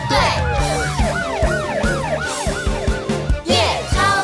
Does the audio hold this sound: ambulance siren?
yes